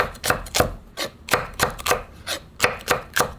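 A knife slices a mild cucumber chili pepper diagonally on a cutting board, producing about a dozen crisp, evenly spaced chops close by with no talking.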